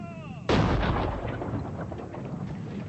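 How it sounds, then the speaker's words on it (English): A British artillery bombardment in the Boer War hits as a single sudden, loud boom that rolls away in a long rumbling decay, following a brief tonal whistle. "British artillery pounded Boer positions in the hills around the besieged towns."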